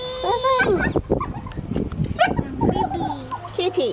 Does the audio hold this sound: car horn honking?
no